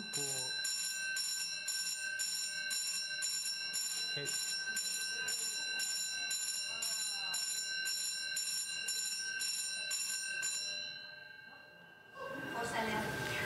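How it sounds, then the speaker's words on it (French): A fire alarm bell rings continuously in a lecture hall during a false alarm, a loud, steady metallic clatter lasting about eleven seconds before it cuts off into room noise. "Fausse alarme."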